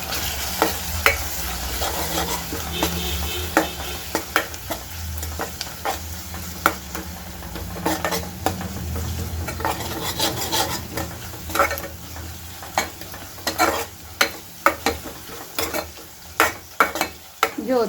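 A spoon stirs a turmeric and garlic red chili mix in a sizzling pan, scraping and clinking at close range, with sharper taps building toward the end over a continuous frying hiss.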